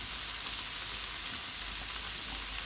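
Rump steak fries in a hot pan with a loud, steady, crackling sizzle, heard close up with no talking.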